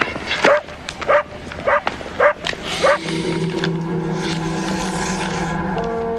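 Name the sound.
dog barking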